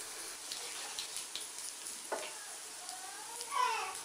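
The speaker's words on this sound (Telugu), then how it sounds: "అందులో కట్ చేసుకున్న ఉల్లిపాయ ముక్కలు వేయాలి" Onion pieces fry in hot tempering oil, giving a soft, steady sizzle with occasional stirring scrapes, quiet and close.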